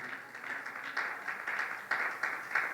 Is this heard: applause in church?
yes